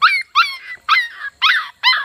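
Five sharp, high yips from a Standard Schnauzer puppy, evenly spaced about half a second apart, close and loud with no talking.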